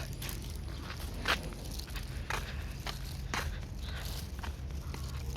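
Footsteps while walking outdoors to gather fallen leaves, a series of soft, irregular crunching steps heard fairly faint and close against steady background noise, with no talk.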